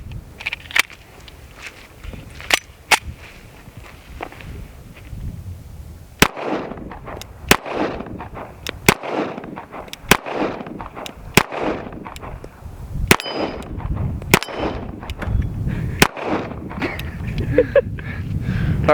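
A Tisas 1911 pistol fires 230 grain .45 FMJ rounds, sharp single reports spaced irregularly through a string of about a dozen shots, with outdoor rustle and movement between them.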